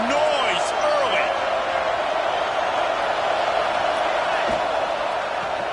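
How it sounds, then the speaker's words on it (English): A packed stadium crowd roars continuously in the College Football 26 video game at an Ole Miss vs Alabama matchup, a dense, even wash of noise with a few faint whoops and thumps mixed in, under a commentator talking. "This crowd bringing the energy and noise early."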